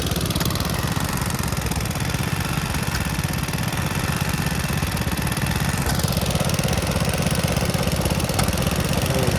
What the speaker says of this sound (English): We got some old Graveleys.